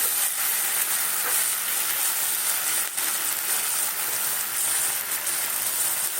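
Puti fish fry in hot oil, giving a continuous close hiss and crackle, even and unbroken from start to finish, with no voices over it.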